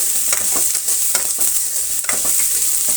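Onions and curry leaves fry in a pan for a field-bean sambar, giving a loud, close, continuous sizzle with rhythmic scraping bursts from stirring and no voices.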